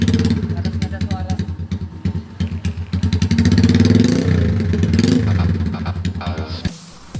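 A Choppy Cub chopper-style motorcycle engine runs steadily close by, a throbbing low idle with occasional revs, while people talk over it throughout.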